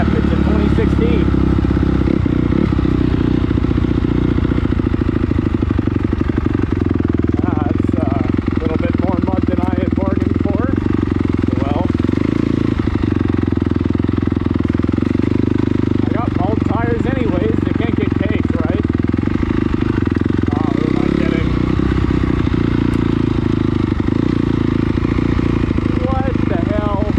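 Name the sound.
2016 Honda CRF250R dirt bike engine running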